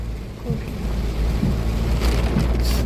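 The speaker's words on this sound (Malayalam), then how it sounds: "നല്ല മഴ ഇവിടെ പെയ്തോണ്ടിരിക്കണത്." Heavy rain roars in a dense, low wash of noise, close and loud, with a few muffled knocks and rustles over it.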